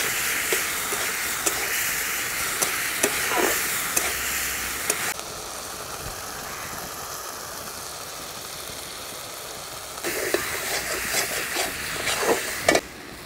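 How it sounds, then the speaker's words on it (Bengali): Spices fry and sizzle in hot oil in a pan for a Bengali rui fish curry, a steady close hiss with scraping stirring strokes that pause midway and resume. "এবার এগুলোকে ভালোভাবে কষিয়ে নেব"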